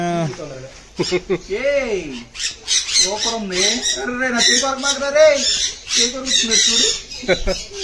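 Parrots in a bird park squawk harshly in a rapid, overlapping run of loud calls close by, with human voices mixed in.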